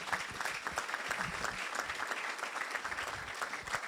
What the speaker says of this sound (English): give Councilmember Helen Gim a huge round of applause